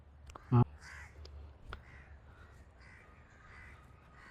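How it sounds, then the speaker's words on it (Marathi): A single loud crow caw rings out near the start, followed by faint bird calls and quiet outdoor background noise in the Maharashtra Nature Park, a man-made forest in Sion-Dharavi, Mumbai. "पक्ष्यांची किलबिलाट तुम्हाला"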